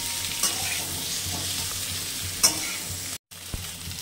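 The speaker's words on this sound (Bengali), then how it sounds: "সব ভাজা হয়ে গেছে, পেঁয়াজ," Onion, garlic, potato and cauliflower sizzle steadily in a frying pan, with a couple of light spoon clinks and a brief dropout near the end.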